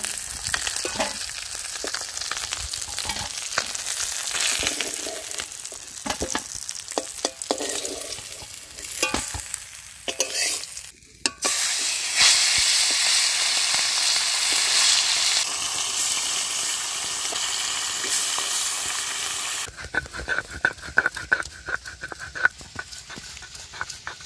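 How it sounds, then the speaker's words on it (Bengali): Steady, loud sizzling of fish frying in a pan, with occasional stirring and scraping and a brief pause partway through. "মাছগুলো পুরো লাল লাল করে ভাজা হয়ে গেছে"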